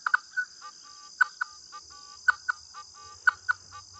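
Nokta Makro Legend metal detector on a wet beach giving target tones, a high steady hum with repeated short beeping chirps in an uneven rhythm, fairly faint.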